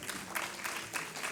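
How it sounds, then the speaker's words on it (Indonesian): Audience applause for a panel speaker at a university energy talk, a steady patter of clapping in rhythmic bursts, moderately distant and fairly faint, with no talk over it. "tepuk tangan buat Pak Fahmi Radi"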